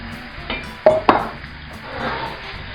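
Rinsed, cut potato pieces tipped into a pot of softened onions and carrots for potato soup with bacon: two sharp clattering thuds close together, then quiet kitchen background, no voices.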